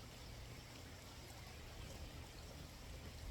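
Water flowing beside a nature walk path, a steady soft rushing and trickling wash that stays even and fairly faint throughout, with no voices.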